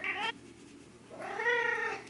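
A cat meows twice, a short call then a longer drawn-out one, close by and fairly loud with no talking.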